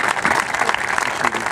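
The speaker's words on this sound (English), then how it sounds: "He's clapping." Dense, steady crowd applause at a congressional swearing-in ceremony held in a stadium, a continuous loud wash of many hands clapping without pause.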